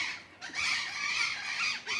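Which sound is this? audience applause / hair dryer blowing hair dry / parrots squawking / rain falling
parrots squawking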